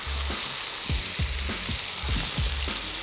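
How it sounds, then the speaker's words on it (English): Sliced Italian buns for a mortadella bologna sandwich sizzle on a hot grill, a continuous loud hiss with occasional soft pops and crackles, close up and with no voices. "Just slice them open, put them on the grill real quick, let them soak up some of that flavor"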